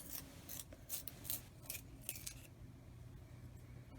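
A Prismacolor Scholar neon green colored pencil is sharpened in a series of quick, scratchy grinding bursts, faint and close, with several short strokes followed by quieter scraping.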